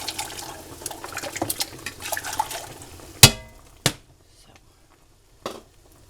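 Hot water runs from a kitchen tap for heating canning lids, a continuous splashing stream that cuts off abruptly, followed by a couple of sharp knocks and a faint later clatter in near silence.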